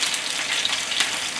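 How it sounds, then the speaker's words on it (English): Raw chicken sizzles and crackles steadily in a hot frying pan during a stir-fry, a bright hissing fry with small pops throughout. "When the raw meat touch the frying pan,"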